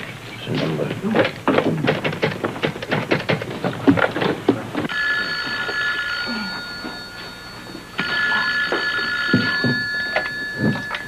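A telephone at a brownstone rings with two long, bright electronic trills in a row, loud and close, after a stretch of muffled clattering and handling noise.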